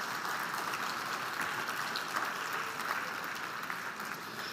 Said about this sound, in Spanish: dale a Dios ese aplauso